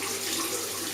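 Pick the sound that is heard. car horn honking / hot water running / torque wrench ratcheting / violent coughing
hot water running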